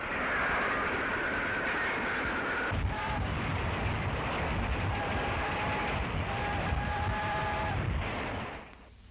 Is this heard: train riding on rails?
yes